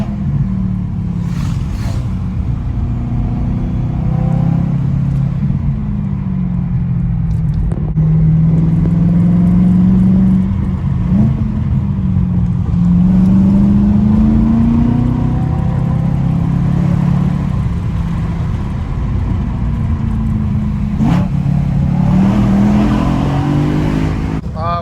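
A BMW G82 M4 winds through canyon turns with a loud, close engine note that repeatedly climbs and falls as it accelerates and downshifts, over a constant rumble of road noise.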